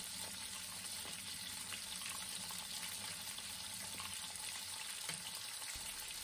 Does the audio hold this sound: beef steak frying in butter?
yes